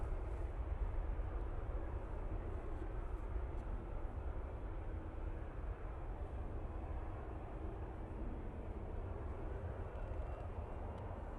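Emirates airliner approaching Manchester Airport, a steady broad low roar of jet engines holding at even loudness throughout, heard from a distance with no talk.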